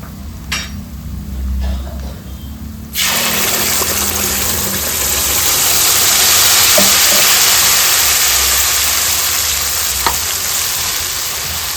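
Loud, steady sizzling of ground tomato paste hitting hot oil, bursting in abruptly after a few seconds of quieter kitchen noise and continuing without pause.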